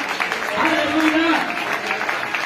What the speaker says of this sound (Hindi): तालियां धन्यवाद करें। बस ताली की आवाज थोड़ी आ रही है।